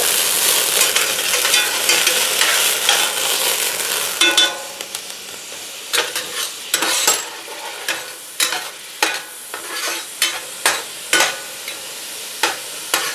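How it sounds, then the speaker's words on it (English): Brandy deglazing a hot pan for a beef sauce, with a loud steady sizzle and hiss at first, then settling into a quieter fry broken by sharp scraping stirs and clanks of a utensil. "we're going to add a 1/4 cup of brandy to help deglaze it and set it on fire"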